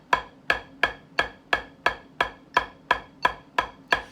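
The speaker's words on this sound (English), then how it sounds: "Here, I'll put the metronome on." Steady, evenly spaced sharp clicks, about three per second, ticking alone with no other sound.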